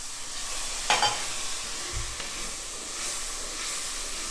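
Port wine bubbles and hisses as it reduces in a soup pot, a dense continuous sizzle with a couple of brief scraping stirs, close and steady with no speech.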